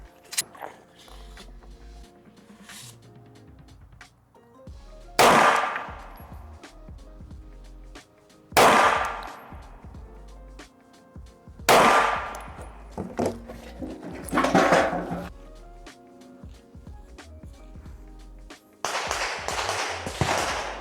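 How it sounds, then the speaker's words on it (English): Rifle fired with a non-ported barrel, with about four loud, sharp shots spaced a few seconds apart, each ringing out briefly, plus a fainter report near the end over quiet outdoor background. "So I want you to actually shoot it with this non-ported barrel"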